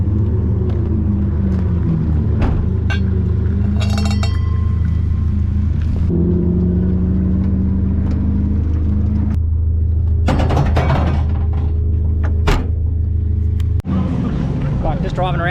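A loud, rough engine rumble from inside a car on a cool-down lap, its exhaust fallen off, the unmuffled exhaust droning steadily with occasional rises and clunks.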